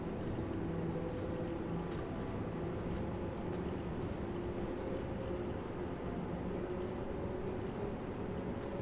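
A London Underground train in Train Sim World 2 runs with a steady low rumble and droning motor hum that holds at an even level throughout, with no voices.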